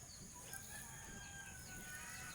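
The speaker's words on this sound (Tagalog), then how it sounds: "ito may manok alis dyan" A rooster crows faintly in the distance over a steady low background hiss, with some soft clucking.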